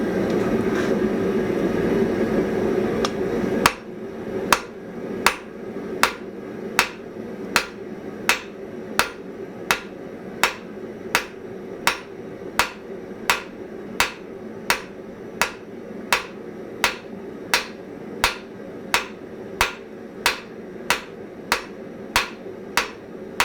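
A newly made hammer strikes metal in a steady, evenly spaced series of sharp, ringing blows, roughly one every three-quarters of a second, after a few seconds of duller background noise.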